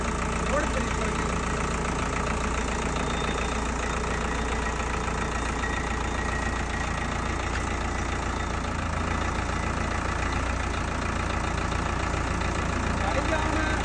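An Agri Master 604 tractor engine runs in creeper gear with a steady, loud, unbroken diesel rumble close by, and a low clattering knock persists throughout.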